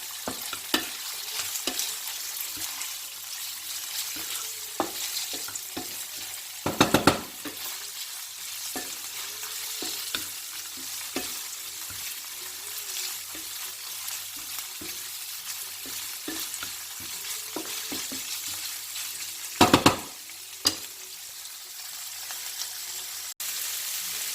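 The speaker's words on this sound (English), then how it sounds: "Now we have to cook it on a high flame for about 2 minutes." Calf's liver fries on a high flame in a pan with a steady, fairly quiet sizzle, broken by frequent utensil scrapes and taps and two louder clattering knocks.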